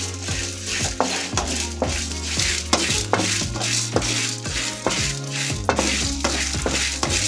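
Chana dal fries with chillies in a pan over a steady sizzle, with a regular rhythm of stirring scrapes and taps from a spoon against the pan throughout.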